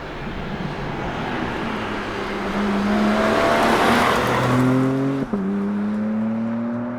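A BMW M4 Competition Convertible with the S58 engine drives by loudly and steadily, its rising engine note holding throughout with a brief gear-change dip near the end.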